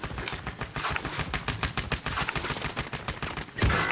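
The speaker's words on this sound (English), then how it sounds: "I'm being shot." Gunfire in Call of Duty Warzone, rapid bursts of automatic shots crackling densely for several seconds, loud and close, ending in a heavier thump.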